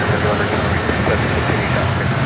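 A JetBlue jet taking off at San Diego airport, its engines making a loud, even roar for a couple of seconds, with a voice talking over the noise.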